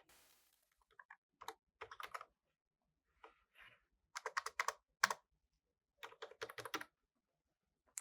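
Fingers type on a computer keyboard, entering a username in short bursts of quick clicking keystrokes separated by brief pauses, close and fairly quiet with no talking.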